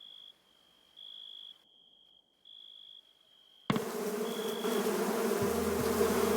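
Bees in the Going Medieval video game give a thin, steady buzz that pulses on and off. Midway, a louder, denser layer of game ambience cuts in beneath it.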